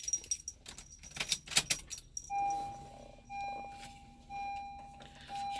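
Keys jangling close by in a bright, metallic burst of clinks and rattles, then quieter scattered clicks and a faint hum as they settle, with no one speaking.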